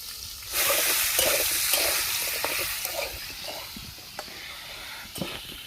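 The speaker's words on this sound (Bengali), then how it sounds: "তেলটা গরম হয়ে গেছে, আমি আলুটাকে দিয়ে দেব" Potatoes seasoned with salt and turmeric drop into hot oil, setting off a sudden loud, broad sizzle that keeps hissing steadily and eases only a little, with a few soft stirs.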